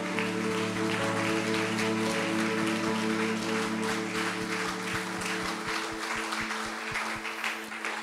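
Congregation clapping during a church worship service, a steady wash of applause with sustained music tones underneath, loud and continuous throughout.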